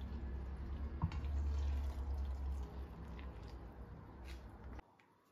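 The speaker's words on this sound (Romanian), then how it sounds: "După care punem puțină apă." A little water is poured over flour and a yeast starter for homemade bread dough, giving a close, low, sloshing pour with a small splash early on before it tapers off and stops abruptly near the end.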